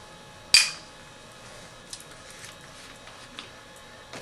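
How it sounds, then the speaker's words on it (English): Glass beakers set into the top of a wine pH meter unit: one sharp glassy clink with a short ringing decay, followed by a few faint small taps in a quiet room. "Place the beakers that have been provided into the top of the unit."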